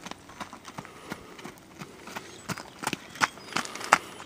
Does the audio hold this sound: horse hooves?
yes